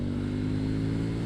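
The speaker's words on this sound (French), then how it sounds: "on va commencer d'abord par le moteur de cette Duke 790." A KTM Duke 790 motorcycle engine runs close and loud with a steady, rich low-pitched drone, holding a constant pull throughout.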